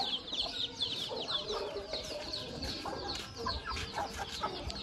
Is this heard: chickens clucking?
yes